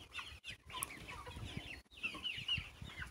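Broiler chicks clucking and peeping continuously in a coop, a busy chorus of close, overlapping bird calls with short gaps, no speech.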